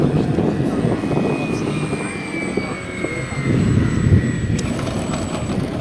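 An RC canard airplane, the RM-12, flies in to land at a model flying meet, its engine droning loudly and steadily with a rising and falling whine as it passes close overhead.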